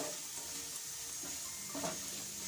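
Potatoes and onions fry in a pan with turmeric and red chilli powder, a steady soft sizzle running throughout with faint stirring scrapes and a slight swell near the end, no voices.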